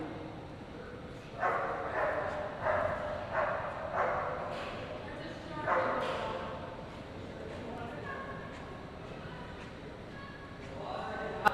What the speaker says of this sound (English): This will be Vicki and her new puppy, Tico.